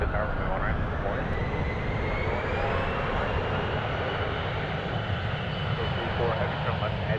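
An airliner taking off at San Francisco International Airport, a loud, steady jet engine roar with a rising whine that holds throughout, heard from nearby with no talk over it.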